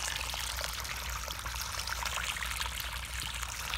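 Water pours and trickles steadily down into an underground septic tank, a soft, continuous hiss and splash heard faintly without any talk.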